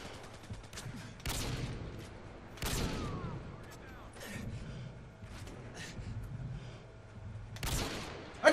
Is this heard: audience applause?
no